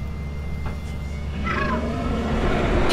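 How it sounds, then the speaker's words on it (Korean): A single cat meows near the middle of the clip in the video game Lethal Company, fairly faint over a steady low hum and background game noise. "고양이 소리가 나야 돼 고양이 소리가"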